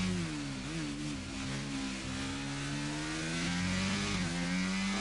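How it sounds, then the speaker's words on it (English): An Alpine race car engine holds a steady, sonorous drone close by, pitch wavering slightly and climbing near the end, with no voices. "that Alpine is one of the best sounding cars in the grid"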